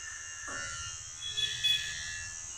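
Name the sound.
hair clipper machine used at a village salon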